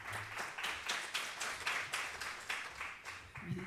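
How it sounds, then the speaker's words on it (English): Audience applause at an academic psychology symposium panel, a steady patter of clapping sustained throughout at moderate distance, with a brief low voice sound at the very end. "Round of applause."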